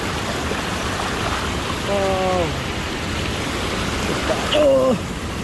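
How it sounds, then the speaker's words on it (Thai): A forest waterfall gives off a steady, broad rush of falling water that fills the whole stretch, with a couple of brief voices rising over it. "จะถ่ายน้ำตกไปเบิ้ง"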